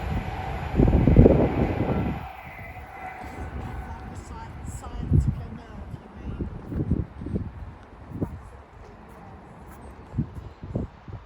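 An Avanti West Coast train bound for Manchester from London Euston passes through Watford Junction with a heavy low rumble that swells early, then continues as uneven rolling thumps of wheels over rail joints under a light wind-like hiss.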